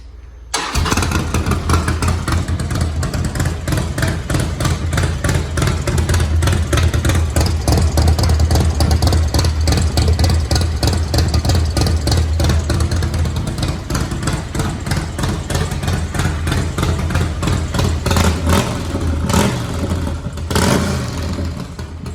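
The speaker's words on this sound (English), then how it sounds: "we keep getting requests to see what our pipe sounds like on a Softail" A Harley-Davidson Softail fitted with a BMF exhaust pipe starts up and runs loud and close for about twenty seconds, a deep steady rumble with a few throttle blips near the end and no talking.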